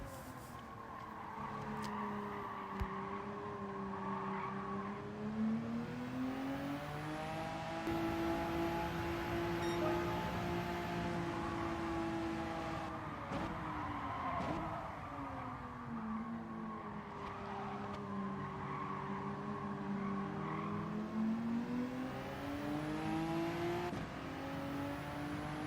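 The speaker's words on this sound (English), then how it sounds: "About 400 meters into the first corner I started to brake, and then you can bring it round nice and easy." A race car in Gran Turismo 7 brakes and corners with a steady engine drone whose pitch sinks and rises in long sweeps, with a faint tyre squeal, and no talking over it.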